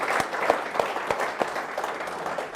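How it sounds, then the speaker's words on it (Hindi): An Eid event audience claps to welcome a Kashmiri singer, crisp individual hand claps standing out over a continuous wash of applause that gradually thins. "भरपूर तालियां हो जाए।"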